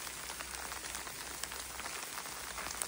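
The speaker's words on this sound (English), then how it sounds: "We've got Sleet now and Hail." Sleet and hail falling steadily outdoors in winter, a dense, even patter of many small icy impacts with occasional sharper ticks, fairly close and continuous with no voices.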